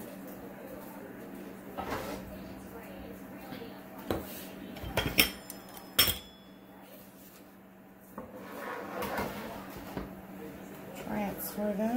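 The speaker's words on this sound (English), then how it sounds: "I'm going to just grab my pan, transfer the Silpat like this" A baking pan clatters and a Silpat mat is shifted across it, with a few sharp metallic knocks and softer rubbing, close by and mixed in with ongoing talk.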